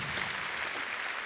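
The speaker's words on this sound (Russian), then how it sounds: "Аплодисменты Кириллу." A concert audience at the Kremlin gives a brief burst of steady applause for a pianist, the clapping even and sustained, heard at a moderate distance.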